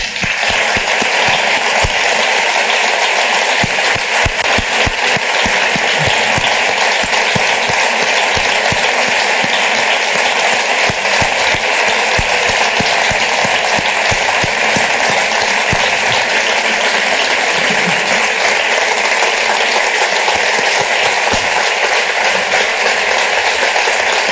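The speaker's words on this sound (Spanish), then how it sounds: "Saquen sus móviles y preparen las manos para los aplausos, por favor." An audience applauds in a hall to welcome author Paul Auster, dense continuous clapping that holds loud and steady for over twenty seconds, with no voices over it.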